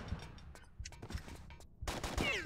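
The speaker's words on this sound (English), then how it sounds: "Lara, Lara, Lara, shoot this guy." Gunfire as Lara shoots an enemy in Tomb Raider III, Nevada Area 51 level: a rapid series of sharp game gunshots, fairly close, followed by a louder burst with a ricocheting whine near the end.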